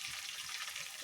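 Curry leaves hit hot oil with a loud, bright crackling sizzle, a dense continuous frying hiss at close range with no voices.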